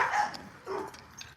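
A small American Pit Bull Terrier band dog gives a couple of quick, faint yips or barks, brief and somewhat distant, with no talk over them.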